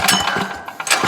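A quick rattling pull-start cord yank on an old Yerf Dog 3203 go-kart engine at full choke, with mechanical clatter and brief bursts, close and short without catching into a steady run.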